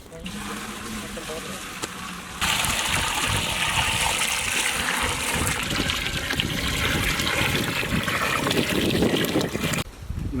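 Water pours and splashes steadily into a chicken biryani pot for several seconds, a broad rushing hiss that starts abruptly and stops near the end.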